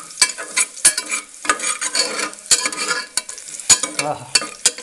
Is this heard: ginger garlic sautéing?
yes